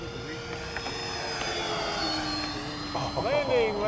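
A 15-year-old Airworld F9F Cougar model jet with a 90mm, 11-blade electric ducted fan whines overhead, a high, smooth turbine-like tone that rises and falls in pitch as it passes. Voices talk in the background.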